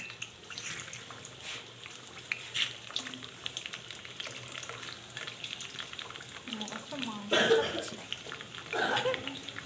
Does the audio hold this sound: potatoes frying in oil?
yes